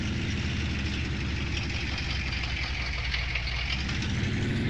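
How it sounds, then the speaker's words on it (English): A Chevy Silverado V8 engine idles in Farming Simulator 19, giving a steady, close, low rumbling drone with a faint knocking texture that holds evenly throughout, with no talk over it. "and you can hear that V8"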